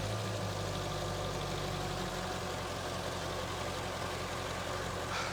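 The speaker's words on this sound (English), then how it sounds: "The motor's running. You know, the roller tip rockers are a little loud." A Chevrolet C30 truck engine idles steadily close by, a continuous low rumble with a busy mechanical clatter from loud roller tip rockers, running without talk.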